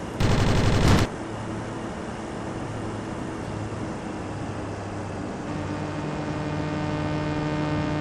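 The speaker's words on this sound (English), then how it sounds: "Trying to explain to Bangat why 50s Brownings go much farther than the rest of the guns" .50 Browning machine guns firing in a video game, a dense, rapid burst lasting about a second, then a steady engine-like drone and hum continuing underneath.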